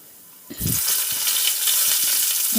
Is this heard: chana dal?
yes